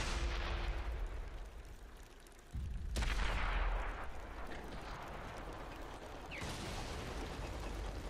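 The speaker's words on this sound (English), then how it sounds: "and artillery finishes him off" Artillery fire striking a tank in World of Tanks on Xbox 360, with a KV-5 in the fight: heavy booming blasts with rumbling decay, a sharp new impact near three seconds and another near six and a half.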